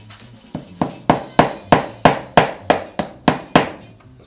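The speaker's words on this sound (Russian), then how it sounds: "Нам надо выбить старую шпонку." A hammer strikes repeatedly to knock out the old ratchet key of an electric trimmer, about a dozen sharp, evenly spaced metallic-wooden blows ringing close and loud with no talk.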